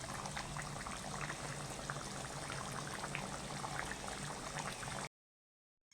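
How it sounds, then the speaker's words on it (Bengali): Chicken curry with potatoes boiling steadily in a pot on a gas stove, a continuous close bubbling and simmering that runs for about five seconds before cutting to silence. "আমার ফুটে গেছে।"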